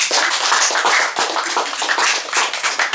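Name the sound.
audience clapping for new leader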